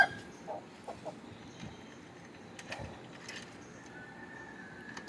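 Country chickens cluck softly in scattered bursts over a low, steady background hum, fairly faint and a little distant, at morning feeding.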